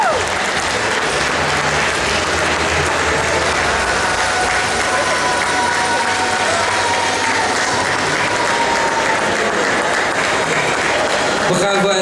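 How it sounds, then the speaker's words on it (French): Loud, sustained applause from a convention audience at a cosplay awards ceremony, dense clapping filling the hall for the full stretch, with a voice audible over it and a sharp burst of louder clapping near the end. "On l'applaudit bien fort. Encore plus fort, s'il vous plaît."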